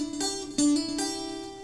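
A guitar hammer-on lick on the third string from a song: three sharp, close note attacks, each ringing briefly, with no voice over them.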